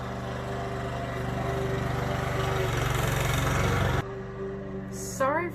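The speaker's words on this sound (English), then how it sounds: "sorry for the lawnmower sounds." A lawn mower drones steadily nearby with a loud, even engine hum, then drops off abruptly near the end, leaving a quieter background and a brief higher-pitched sound.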